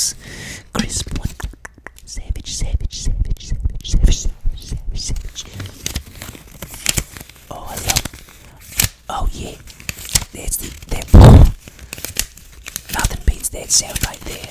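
Crisp $100 bills are crinkled and rubbed close to the mic in an ASMR setting, with repeated papery crackles and rustles and one louder crunch near the end, while soft whispering runs throughout.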